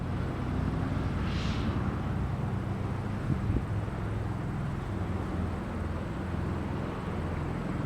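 Tiltrotor military aircraft flying over an airport near Lansing, Michigan, a steady low droning rumble mixed with wind, fairly distant and unbroken, no talking.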